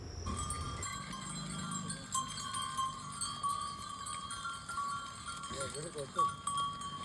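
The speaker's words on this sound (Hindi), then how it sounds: "ये भेड़ है बकरियां हैं?" Sheep and goats in a village near Kedarnath at sunset, their bells clanking irregularly close by, with occasional bleats and people talking in the background.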